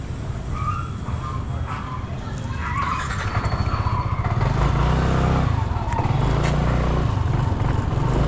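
City street traffic in Baseco builds from a low murmur into a louder, steady roar of motorcycles and cars passing nearby, with a few brief horn-like tones over the din.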